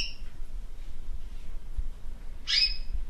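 A pet bird gives two short, high chirping calls, one at the very start and a brighter, louder one near the end, separated by a quiet room hum.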